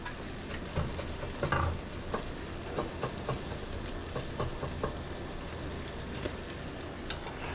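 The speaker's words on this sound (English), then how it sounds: "let's try to scrape these edges off" Fried chicken edges scraped off a sizzling pan for a chicken sandwich: continuous close sizzle punctuated by repeated rough scraping strokes of a utensil against the pan surface.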